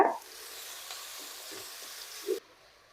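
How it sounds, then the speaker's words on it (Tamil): Garlic frying in oil makes a soft, even sizzle after a brief opening clatter, with a few light stirring knocks before the sound cuts off abruptly near the end. "பூண்டு வறுக்கிற கொஞ்சம் நேரமாகும் அதனால தான் எண்ணெய் ஊற்றி வறுபட்டுக்கிறோம்"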